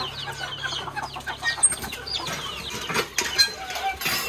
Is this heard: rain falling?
no